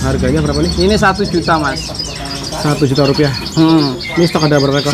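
Caged songbirds at a bird shop chirp and warble in bright repeated phrases, close and lively, mixed with steady talk between a buyer and seller.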